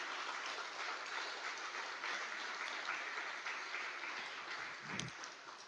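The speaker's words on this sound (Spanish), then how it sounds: "Denle un gran aplauso al Señor." Church congregation applauding during a Sunday worship service, a steady dense wash of clapping that holds for the whole stretch at moderate level, with no voices standing out.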